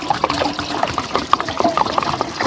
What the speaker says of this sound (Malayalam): വെള്ളം ഒഴിക്കാം.